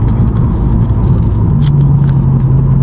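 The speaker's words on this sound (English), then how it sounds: "Let me know, how do my car sound?" A 1.4 litre car engine with a free-flow exhaust and a smaller back box rumbles steadily and loudly while driving, a constant deep drone with a slight rising tone, no talking.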